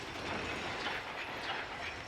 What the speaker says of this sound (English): that's the sound of the gate closing behind us